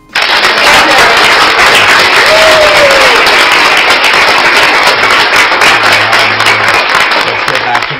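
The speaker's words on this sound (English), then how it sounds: "A little bit of applause." Loud, dense applause from an audience fills the space from start to finish, a continuous wash of clapping with a voice briefly heard through it.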